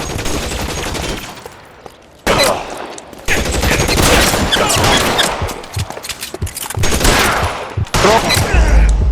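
Loud bursts of rapid gunfire in the L.A. Noire video game, coming in several heavy volleys separated by short lulls, with faint voices underneath.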